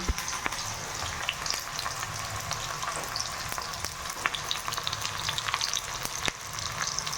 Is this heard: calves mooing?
no